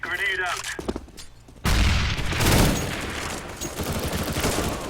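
Gunfire in an online video game, a sudden loud burst of rapid shots and booms that cuts in after a brief stretch of other game sounds and stays busy, with a voice talking faintly in the background.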